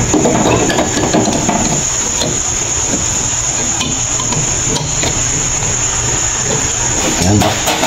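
A freshly cleaned 4HL1 diesel injector sprays on a calibration test bench, a loud continuous hissing roar with harsh high-pitched spray noise and rapid mechanical chatter, steady for several seconds.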